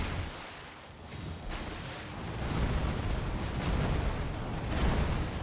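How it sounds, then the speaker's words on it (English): A boss attack in Elden Ring: Shadow of the Erdtree, in the Rauh Ancient Ruins, sets off booming explosions that swell into a dense, roaring rumble lasting several seconds without speech. "I didn't think that move would have a second explosion."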